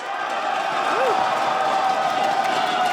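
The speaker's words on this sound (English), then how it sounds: "if you think Team Liquid's going to win, give me a cheer" A packed esports arena crowd at a League of Legends upper bracket final cheers in a loud, sustained roar that carries through the whole stretch.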